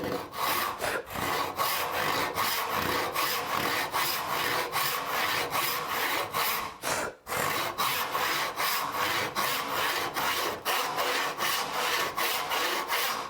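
A hand saw cuts through wood along a marked line in steady, close back-and-forth strokes that rasp evenly, broken once by a short pause midway.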